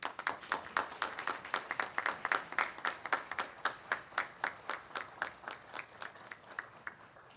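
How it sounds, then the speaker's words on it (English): Graduates at a graduation ceremony clap in steady unison, a regular beat of crisp, fairly faint hand claps over a soft wash of scattered applause, with no distinct cheering standing out. "I want you to express thanks for the support you've received over the years by acclamation, applause, or cheers"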